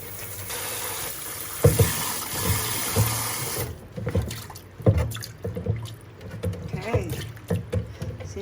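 Tap water runs and splashes for several seconds, with occasional knocks and clatters of dishes nearby, then continues more unevenly.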